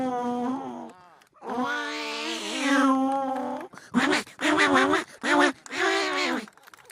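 A child vocally imitates two cats fighting: a low yowling growl rising into strained wails, then a run of sharp, spitting hisses and snarls in quick bursts, close and loud.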